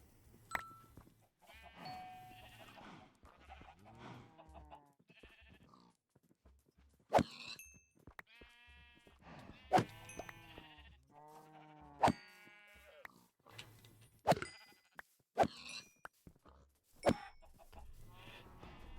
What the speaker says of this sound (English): Got all sorts of animals.